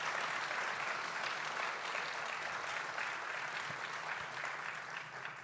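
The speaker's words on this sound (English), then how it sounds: "You can clap for them." An audience claps warmly for family members in the front row at a tribute event, an even, sustained round of applause that tapers off slightly at the end.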